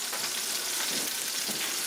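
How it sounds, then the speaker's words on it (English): Salmon fries in a cast iron skillet, a dense, even sizzle that stays close and loud for a couple of seconds with no voices. "we got Chef Izzy in here making some salmon in the cast iron skillet"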